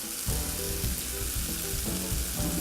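Garlic hitting a hot pan sets off a steady, close sizzle and crackle of frying that runs throughout, with faint stirring and no voices.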